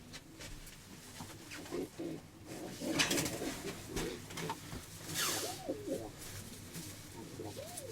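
A two-year-old grey scaled pigeon hen and other pigeons coo in a series of soft, repeated rolling calls, faint and close, over light rustling with occasional speech.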